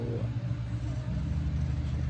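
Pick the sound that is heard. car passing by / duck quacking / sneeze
car passing by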